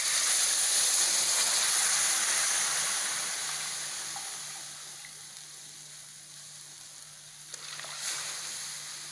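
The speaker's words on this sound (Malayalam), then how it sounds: "നല്ല തിളച്ച വെള്ളമാണ് ഒഴിക്കുന്നത്." Boiling water poured over rice in a steel jug for a vegetable biryani, a steady rushing hiss that gradually softens as the pour continues, with no talk.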